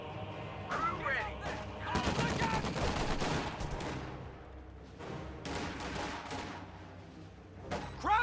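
Dense video game gunfire in a World War II battle scene: rifle and machine gun bursts crackle continuously with occasional heavier booms, mixed under shouted voice lines.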